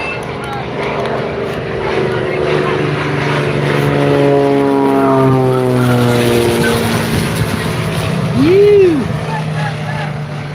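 Cessna Skylane propeller plane flying past an airfield on circuits, its engine drone rising in loudness then fading with a sweeping pitch shift as it goes by, with a voice talking over it.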